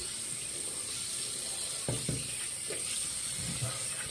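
Tap water running into a sink to wet the face before a shave with a Feather DX shavette, a faint steady hiss with a few soft splashes as hands dip in, heard alone.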